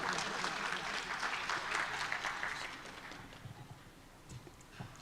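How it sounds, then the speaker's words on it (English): A summit audience claps to welcome a speaker onto the stage, a full burst of applause that thins out and fades to scattered claps after a few seconds. "Park with a big round of applause."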